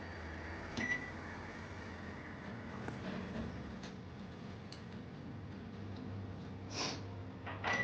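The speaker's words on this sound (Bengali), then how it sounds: "এখন মাইক্রোওয়েভে দিয়ে দিলাম।" A microwave oven runs with a low, steady hum, joined by faint clicks and a few soft bursts of kitchen noise while pav bhaji is being made.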